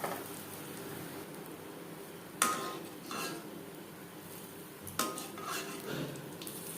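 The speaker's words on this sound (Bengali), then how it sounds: "এভাবে ওপরে দিয়ে দেবো গরম তেল" Hot oil is spooned over ripe-banana malpua frying in oil on high flame, with two sharp metallic clinks of a spoon against the pan, each followed by a brief rustle, over a faint steady hiss.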